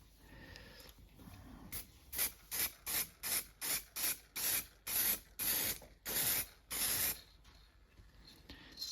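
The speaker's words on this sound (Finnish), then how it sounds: "Vedetään tähän vähän tällaista akryylilakkaa." Acrylic lacquer sprayed from a can onto a rust repair on a Subaru Forester, a quick series of about a dozen short hissing bursts in steady rhythm, close up.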